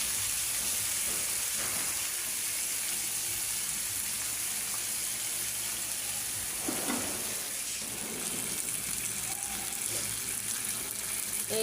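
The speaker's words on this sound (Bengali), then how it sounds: "হালকা পেঁয়াজ দিয়ে মাছ ভাজি করলাম।" Fish fries in a pan with coarsely cut onions and eggplant, giving a steady, close, continuous sizzle and hiss throughout with no talking.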